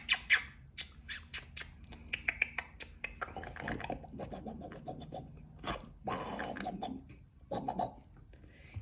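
Pet bird squawking in a series of sharp, loud calls during the first three seconds, then quieter scratchy scraping and shuffling sounds with a few more squawks nearby.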